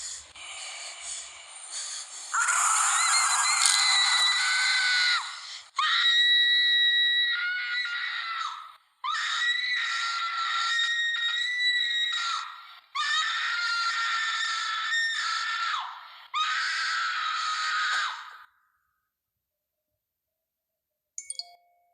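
Screaming from a short Turkish horror film: five sustained, loud, shrill screams in close succession, each lasting a couple of seconds, followed by silence and a brief faint sound at the end.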